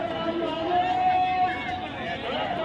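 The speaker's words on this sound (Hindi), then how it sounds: "और भीड़ देखो आप, कितना ज़्यादा भीड़ है।" Pilgrims and shoppers crowd the busy lanes near the Ayodhya Ram temple, full of toy stalls, filling the air with a dense, steady murmur of overlapping voices at moderate distance, with no single talker standing out.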